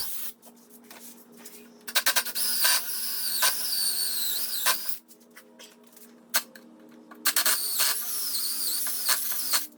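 A power drill whines steadily at close range, drilling holes in monkey pod wood for threaded inserts, its pitch shifting as it bites in, with short pauses and clicks between runs.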